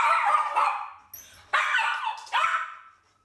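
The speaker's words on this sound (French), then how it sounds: "les aboiements répétés de Nounours dérangent aussi les voisins" A dog named Nounours barks in an apartment building, four close, sharp yelping barks in quick succession, with short quiet gaps between them and no other sounds.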